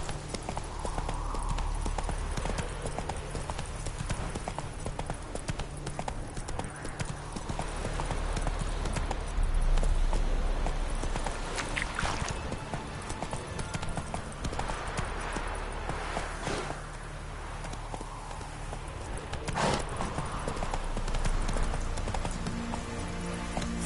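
Horse hooves clip-clop steadily in The Witcher 3 video game, a close, continuous rhythmic trot of the horse Roach that goes on for the whole stretch, with game ambience beneath and no speech.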